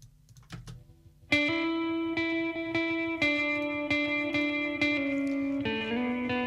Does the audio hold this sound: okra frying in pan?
no